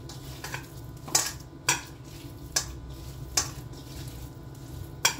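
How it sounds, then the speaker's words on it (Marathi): Chicken being mixed with marinade in a bowl gives sharp utensil clinks against the bowl at irregular intervals over a soft wet churning, close and fairly clear. "आपण या साईडला आपण पूर्ण व्यवस्थित असं मिक्स करून घ्यायचं"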